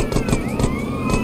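A police siren from the video game GTA San Andreas wails steadily with a rising and falling tone, loud and continuous over a busy rumbling background.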